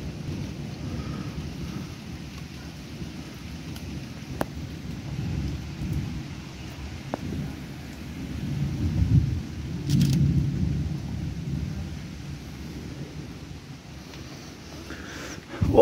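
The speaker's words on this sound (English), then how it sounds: "we've got a severe thunderstorm right now here in Bognor." A severe night thunderstorm in Bognor Regis, England: steady rain hisses throughout while low thunder rumbles roll and swell, growing loudest near the middle and again with a sharp burst at the very end.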